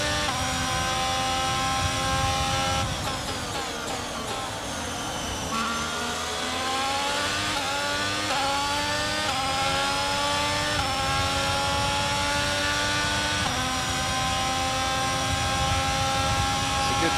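Ferrari-powered Formula 1 car in the F1 22 racing game at Bahrain, engine roaring loud and continuous at high revs, pitch climbing through gear changes along the straights.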